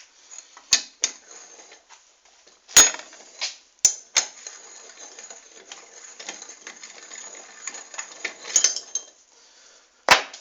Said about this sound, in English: you're going to need your size 12 spanner for that top nut